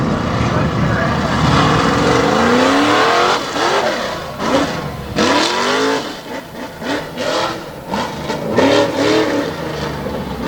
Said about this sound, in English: Now you see the black Bronco on the starting line.